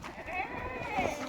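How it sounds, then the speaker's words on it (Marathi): Kathiawadi goats bleat at a livestock sale, a couple of short, wavering cries rising over a background of people talking nearby, fairly faint. "संध्या तू बकरा सोड"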